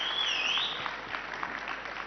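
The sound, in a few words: audience applause and whistling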